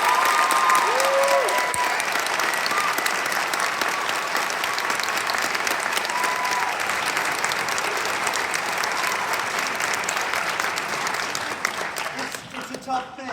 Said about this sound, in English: So I would like to give all of these kids on stage a round of applause.